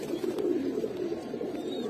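Close, steady cooing from a male Giribaz pigeon: a short, unbroken stretch of soft, throaty warbling with no voices present.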